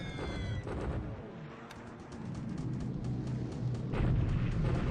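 Bombing raid on a crossroads in the WWII naval strategy game War in the Pacific: a low, rolling rumble of explosions building steadily, with a sharp burst near the start and a heavier blast toward the end, heard alone.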